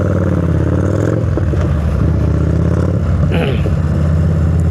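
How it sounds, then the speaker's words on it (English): Motorcycle engine running steadily on the road with other traffic passing, a continuous loud drone with a brief rise in revs midway, recorded close on a DJI Mic Mini. "Is the bike sound clear?"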